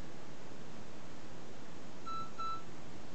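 A mobile phone gives two short beeps as an SMS alert arrives from a Segnetics SMH4 PLC water tower controller, the tones clear but modest over a quiet background hiss.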